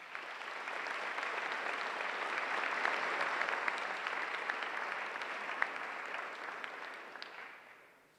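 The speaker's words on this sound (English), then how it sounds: "Thank you so much for that very nice applause." A debate audience applauds to welcome a moderator to the stage, steady sustained clapping from a roomful of people that swells slightly and then tapers off at the end.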